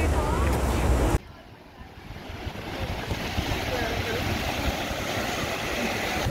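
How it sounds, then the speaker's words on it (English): Surf breaks on a beach on a hot day, a continuous rushing wash mixed with wind buffeting the microphone, loud near the start and then steadier and softer. "First time here at the beach. It's amazing."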